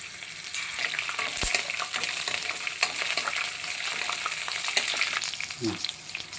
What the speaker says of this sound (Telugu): పచ్చిమిర్చి సగం వేయించుకున్నాక ఎండుమిర్చిని కూడా వేసుకోవాలి